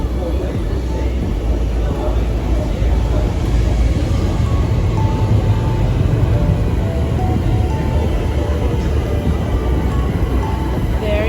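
Stockholm metro train rolling into a station, a steady loud rumble of wheels and motor with faint whining tones, continuous throughout with some background voices.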